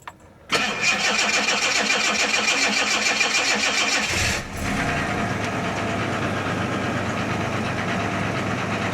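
A 1987 Jaguar engine cranks briefly and fires up loud and close, then settles into a steady, even idle with no talking over it.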